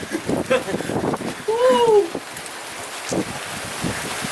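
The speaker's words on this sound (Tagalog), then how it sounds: "Grabe oh, lakas ng bagyo. May bagyo na." Heavy storm rain pours down outdoors in a steady hiss while people talk and shout over it nearby.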